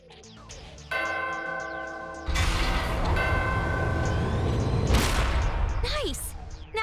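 In the video game Danganronpa, a bell rings out with a bright metallic tone. A heavy resonant crash follows and swells and sustains over a low rumble, with a short swooping tone near the end.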